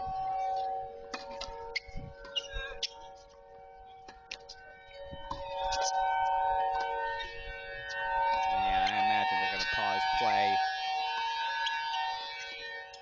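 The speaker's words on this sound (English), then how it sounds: "We'll take us over to Cary until our siren wants to calm down." A civil defense siren sounds at the Tulsa tennis courts, a steady wailing tone that swells and holds for several seconds over a live broadcast, with commentators talking beneath it.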